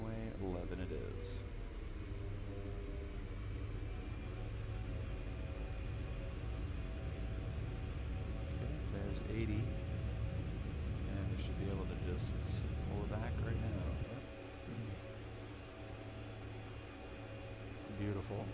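Twin Otter aircraft in the X-Plane 11 flight simulator taking off from runway 11 with 15 degrees flaps, a steady loud propeller engine drone and hum throughout, easing off near the end, with someone talking over it at times.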